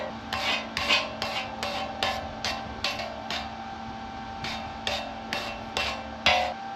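Welding slag is chipped off a steel deck post sleeve with a series of sharp metallic taps, roughly evenly spaced with a brief pause midway, close up over a steady background hum.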